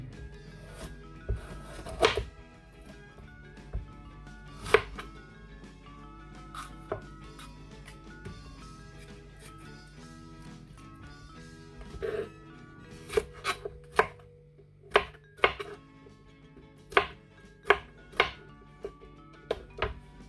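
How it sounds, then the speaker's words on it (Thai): A knife chops chicken steadily on a cutting board, irregular sharp thuds that pick up pace and grow louder toward the end, with no talking. "ไก่เสร็จแล้วเราก็มาหั่น"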